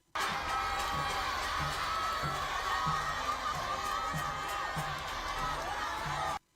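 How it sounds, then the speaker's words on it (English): Jubilant crowds lining a highway through rural communities cheer the passing president, a steady distant roar of shouting and whooping voices with repeated low drumming pulses underneath. "jubilant crowds lining the highways from Sutukung, Barokunda and Dongoroba, among other communities, cheering the president"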